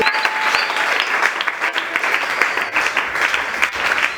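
A church congregation applauds during a prayer service, steady dense clapping from many hands, loud and close, sustained without pause throughout.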